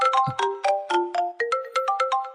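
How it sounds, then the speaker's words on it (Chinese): A phone ringtone plays a bright electronic melody of quick, evenly spaced notes, loud and alone with nothing else underneath. "是白老，我去接他电话"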